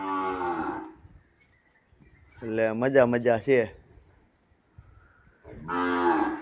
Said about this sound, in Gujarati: જો ભાંભરે ગાવું